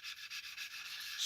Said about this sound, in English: coming in with our nice fine old used sanding stick, right, we can just lightly